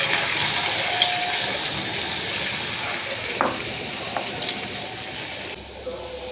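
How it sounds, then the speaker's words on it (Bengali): Potatoes fry in hot oil for a crispy potato fry, a steady, close, bright sizzle with occasional soft pops and a spatula stir, with no voices. "অল্প অল্প করে ভেজে নেব।"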